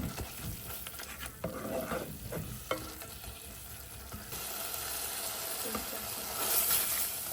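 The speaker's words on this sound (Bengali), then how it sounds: "এখন এটা আমি ভালো করে এখন কষিয়ে নেব" Spice masala cooks down in a pan before the fish goes in, a faint, soft sizzle mixed with scraping stirs and light utensil knocks, quiet throughout and a little fuller toward the end.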